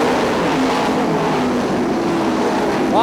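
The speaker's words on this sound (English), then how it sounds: "Wow, some 3-wide racing as they went down the front straightaway." Sprint cars racing three-wide down the front straightaway of a dirt track at Ionia Raceway Park, a loud sustained engine roar from several cars at once, dense and unbroken throughout.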